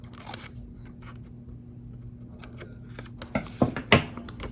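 Scissors trim paper for a craft pocket page, a few soft close snips and scrapes near the end over a low steady hum.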